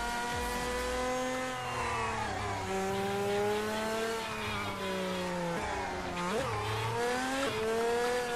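Revving sports car engine in the tabletop racing video game Table Top Racing: World Tour, with a loud continuous whine that climbs and drops through repeated gear shifts and brief tire squeals, heard alone without talk.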